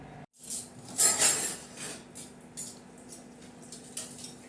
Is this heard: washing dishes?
yes